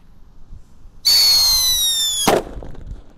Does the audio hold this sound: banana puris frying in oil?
no